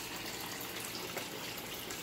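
Water siphoned through a hose gives a steady, faint hissing gush that runs continuously without a break for the whole stretch.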